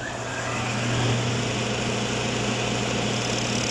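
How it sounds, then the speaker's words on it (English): A sander runs steadily at a Seaholm High School workshop, rounding the corner of a small workpiece; a continuous, fairly loud motor drone with a broad whir holds throughout without pause. "Start the sander."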